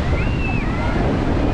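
Large ocean waves break at a beach in Real, Quezon, making a loud, continuous surf roar mixed with wind buffeting, and a brief high whistling tone rising early on.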